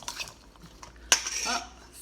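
A lima bean salad with cilantro is stirred in a bowl with a utensil, giving soft scraping and clinks, including one sharper knock of metal against the bowl.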